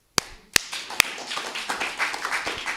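An audience at a live performance event claps for the performer: a few sharp, separate claps open it, then the crowd joins in dense, steady clapping that holds to the end.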